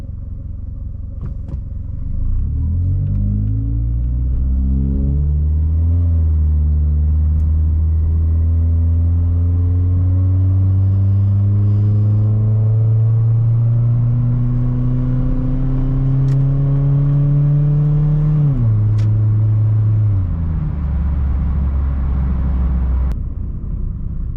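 A 2002 Mitsubishi Lancer engine runs loud and steady from inside the car, revving up through several gear shifts with rising and falling tone, then settling lower near the end, with no talking.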